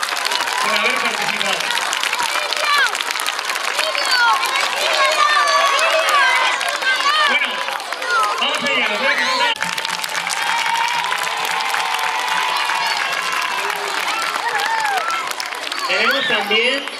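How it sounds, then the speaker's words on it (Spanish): Schoolchildren and their teachers applaud themselves at a school event, a loud sustained roar of many clapping hands lasting throughout, with scattered cheers, children's voices and chatter mixed into the din. "nos vamos a aplaudir nosotros mismos y también los profesores"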